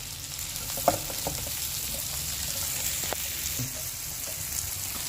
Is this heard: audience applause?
no